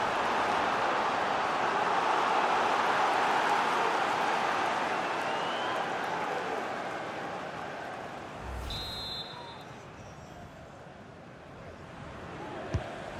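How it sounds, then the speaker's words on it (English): Stadium crowd roaring in EA FC 24 during a Liverpool versus Inter Milan match, a steady dense wash of cheering that swells early and eases slightly, with a brief thud near the end. "just listen to the crowd"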